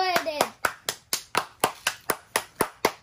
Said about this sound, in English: Everyone clap. Everyone clap.